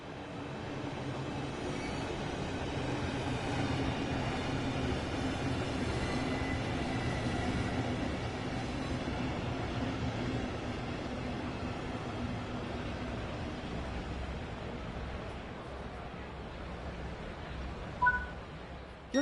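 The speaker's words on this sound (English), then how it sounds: "Your train has arrived." A British Rail Class 395 Javelin train arrives in the video game Train Sim World 3, a steady broadband rumble of wheels on rails with a faint squeal and a small clunk near the end.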